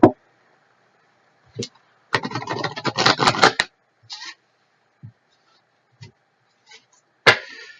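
A tarot deck being shuffled and cut by hand, with a dense riffle of cards in the middle framed by scattered soft taps and shuffles, close and clear with quiet gaps between.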